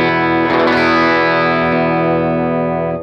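Electric guitar through a Chase Bliss Automatone Preamp MKII overdrive, a single loud, bright, driven chord struck and left ringing for about three seconds, with no voices.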